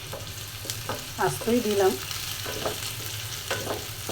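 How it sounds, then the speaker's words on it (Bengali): Garlic, onion and dried red chili frying in oil make a soft, steady sizzle with light stirring, while a voice speaks briefly over it. "রসুন আর পেঁয়াজটা ভেজে নিচ্ছি, আর দিয়ে দিচ্ছি শুকনো মরিচ,"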